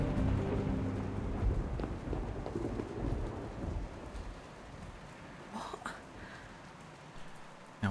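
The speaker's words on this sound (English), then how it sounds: "Whilst it's pouring with rain." A thunderstorm with pouring rain in the mystery video game The Last Stop: steady heavy rain hiss and low rolling thunder that fades slightly over several seconds, with no voices.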